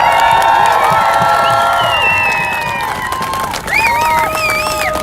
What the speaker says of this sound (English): Please, let's give our applause to NYPD.